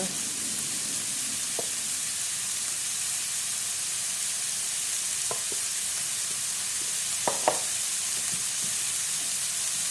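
Fried rice being stirred and mixed in a pan, with salt and black pepper just added: a steady low sizzle runs throughout, broken by a few sharp scraping clinks of the spatula near the end.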